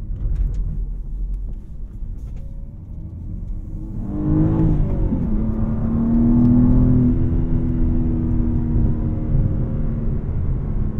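A 2021 BMW M4 with a 3-liter twin-turbo inline-six pulling away, rumbling at idle before the engine note swells into a rising, rasping rev around the middle and settles into a steady loud drone.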